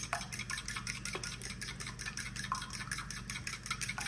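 An egg with salt being beaten in a bowl gives a rapid, regular scraping and tapping rhythm at close range, quiet and steady, with no voices.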